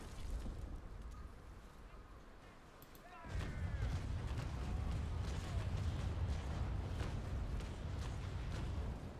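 Cannon fire from ships in the Naval Action naval combat game, deep rumbling booms that swell into a dense, sustained barrage after a quieter opening stretch.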